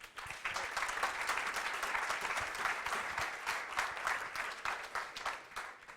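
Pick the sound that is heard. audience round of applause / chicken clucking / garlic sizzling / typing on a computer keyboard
audience round of applause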